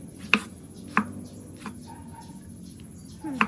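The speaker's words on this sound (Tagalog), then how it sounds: "tapos maghiwa na tayo ng mga kamatis tsaka sibuyas" Tomatoes and onions being chopped with a knife on a board in a home kitchen, four separate sharp cuts spaced apart, near and clear against a faint background hum.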